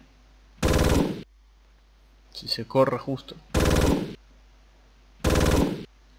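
Three loud bursts of rapid automatic gunfire from a video game, each roughly half a second long and evenly spaced, with a short stretch of Spanish talk in between.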